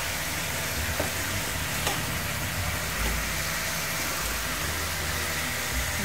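Spiced food with chilli powder and garam masala frying in a pan in an Indian kitchen, with a dense, continuous sizzle and occasional scraping as it is stirred, steady and close.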